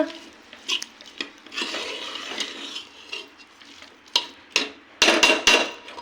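A spoon scrapes and clatters through chopped vegetables in a cooker for pav bhaji, with uneven bursts of stirring and a few sharper metallic knocks near the end, close and fairly loud with no talking.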